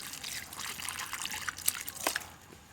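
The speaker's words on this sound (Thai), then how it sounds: "ได้ลูกตำลึงมาแล้วนี่เราก็ล้างให้มันสะอาด" Small ivy gourd fruits are rinsed clean in water by hand, giving close splashing, trickling and dripping with a few brighter plops partway through, alone without speech.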